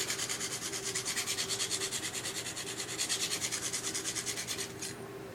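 A Smith & Wesson Black Ops recurve knife blade scrapes over a sharpening stone in steady, even back-and-forth strokes, close and clear, forming a quick rhythmic rasp that stops near the end.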